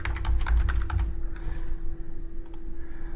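A computer keyboard is typed on during Excel report work, giving a quick close run of key clicks over a steady electrical hum, then a few light isolated taps. No one talks.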